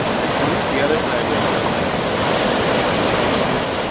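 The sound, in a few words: waterfall on the Missinaibi River, Pond Falls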